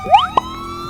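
A police car siren in the GTA V video game gives a quick rising electronic yelp, loud and close, then drops away to a faint tonal tail.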